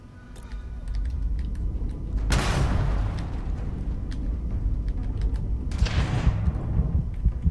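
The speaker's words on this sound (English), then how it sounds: "It's a shotgun." Two heavy shotgun blasts boom out a few seconds apart in the video game Starfield, each a broad burst that rings out over a low rumbling background.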